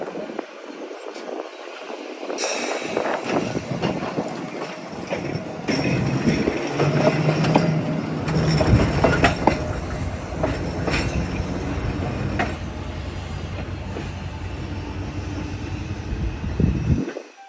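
A tram car pulls away from the main depot at the Illinois Railway Museum, with a steady rolling rumble, clicking wheels and brief squeals building close by, and no talking.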